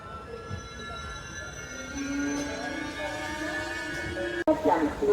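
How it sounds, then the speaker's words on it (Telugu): The Machilipatnam–Visakhapatnam Express rolls slowly into platform 1 at Kaikaluru with long squealing wheel and brake tones and rumbling carriages, ending in a sharp clunk and rattle as it nears stopping. "మచిలీపట్నం విశాఖపట్నం ఎక్స్ప్రెస్ అయితే వచ్చిందండి ప్లాట్ఫామ్ 1 కైకలూరుకి"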